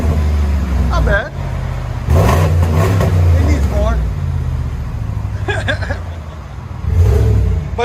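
A car exhaust fitted with a Flowmaster muffler revs in loud, deep bursts that rise and fall several times, with people talking over and between the revs.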